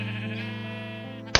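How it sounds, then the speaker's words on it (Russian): Sheep in a video game bleats once in a long, wavering, nasal call that carries on through most of the moment, ending in a sharp click, with no talk over it. "овца какая-то придурковатая."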